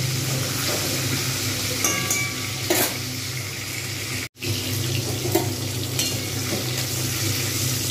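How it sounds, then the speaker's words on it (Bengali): Hilsa fish fries in plenty of oil with a dense, steady sizzle up close. Faint clatter and brief stirring noises come through, and the frying breaks off for a moment midway. "মাছটাকে যতটা পারবো সুন্দর করে ভেজে নেওয়ার চেষ্টা করব"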